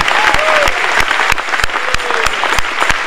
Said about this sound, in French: Donnons au Seigneur une bonne main d'applaudissement.